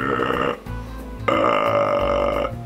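A person's voice imitates a baby's burp with two loud, close, croaky belching sounds. A short one comes first, and after a brief pause a longer sustained one follows.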